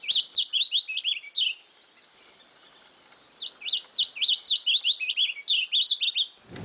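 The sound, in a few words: pia-cobra bird song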